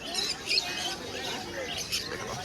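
Budgerigars, including backfill and spangle varieties, chirp and tweet at a busy Naihati bird market, a thin chatter under steady crowd noise.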